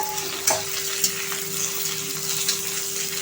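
Okra (bhindi) frying with browned onions in a pan gives a steady close sizzle, with occasional sharp stirring scrapes and a constant faint hum underneath, no one speaking.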